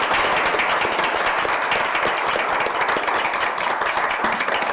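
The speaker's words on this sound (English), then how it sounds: "give all of these good officers a round of applause for their great work this year" A municipal council meeting audience applauds police officers: dense, steady clapping from many hands, loud and continuous throughout, with no speech over it.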